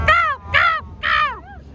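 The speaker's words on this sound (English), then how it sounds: "Many birds, as you can hear it." Crows calling near Om Beach in Gokarna, Karnataka: three loud, close, harsh caws in an even rhythm, followed by a fainter, shorter call.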